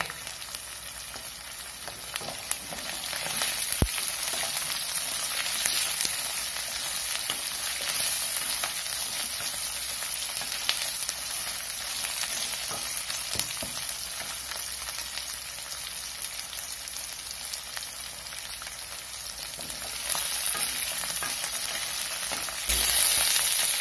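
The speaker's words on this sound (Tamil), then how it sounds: "இப்ப இஞ்சி வதங்கிடுச்சு. கொஞ்சமா வெங்காயம், சின்ன வெங்காயம் போட்டிருக்கேன்" Ginger and small shallots sautéing in a pan for Kerala-style ginger curry, a steady loud sizzle and crackle with occasional scraping stirs, continuous throughout.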